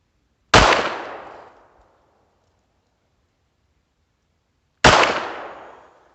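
Two sharp shots from a Beretta U22 Neos .22 pistol at target practice, spaced about four seconds apart, each a loud close crack with a fading echo tail and silence between.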